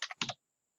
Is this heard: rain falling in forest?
no